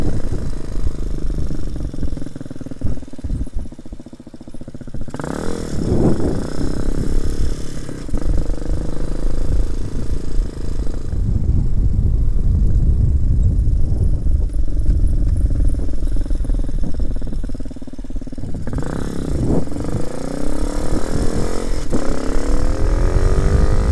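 A 2019 RPS Hawk 250 motorcycle engine revs hard and winds up toward high RPM, its loud rising drone repeatedly climbing and dropping back in several surges, with steady road and wind rumble throughout.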